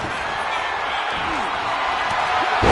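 A Samoan drop slam by Jacob Fatu in a SmackDown championship wrestling match, a raucous arena crowd roaring steadily throughout with a sharper thud near the end.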